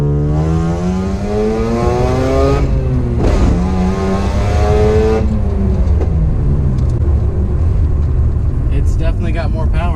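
Rotary engine fitted with V8 ignition coils runs and revs up and down in rising and falling sweeps, loud and close, with people talking over it.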